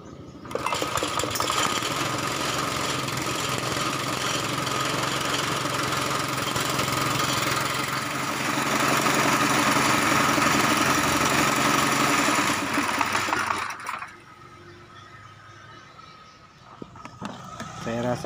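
An air compressor whose tank loses air too quickly, switched back on after a taped fitting was refitted, runs with a loud, steady rattling motor drone for about fourteen seconds, then cuts off into near quiet.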